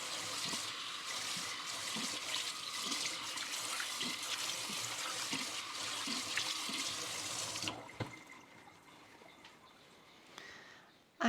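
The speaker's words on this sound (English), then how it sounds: "I'm gonna rinse this under my sink and I'll be back." Houseplant roots are rinsed under a kitchen sink tap: water gushes steadily and close for several seconds, then shuts off, leaving quiet handling sounds.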